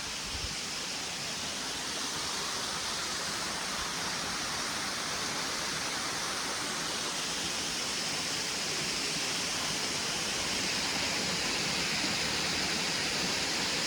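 Adahalena waterfall at Elpitiya Pituwala pours in a constant broadband rush of falling water, steady and moderately loud with no voices.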